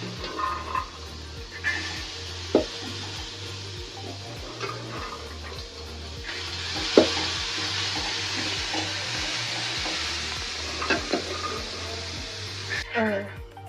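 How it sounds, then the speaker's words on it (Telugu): Small bitter gourd pieces fry in a pan with a steady close sizzle and occasional stirring scrapes, while a rhythmic low hum pulses underneath throughout. "ఇది బాగా వేయించుకోవాలండి."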